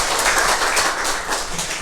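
A church congregation claps together in sustained, dense applause that fills the space evenly and stays fairly loud throughout, with no voices on top.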